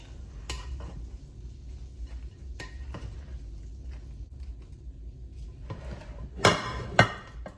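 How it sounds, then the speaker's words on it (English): A spoon stirs pecan peach bread pudding mixture in a dish with soft wet scraping and scattered clinks, ending in two sharper knocks against the dish, close and fairly quiet with no talk. "Stir it up a little bit, get it kind of wet"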